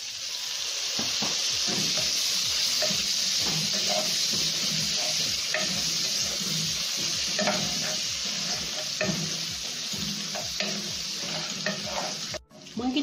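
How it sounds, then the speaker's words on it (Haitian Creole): Hot dogs fry in a pan with Creole spices and tomatoes, a loud constant sizzle with rhythmic stirring scrapes of a utensil throughout, and a brief clatter near the end. "On va garder ça bien frit."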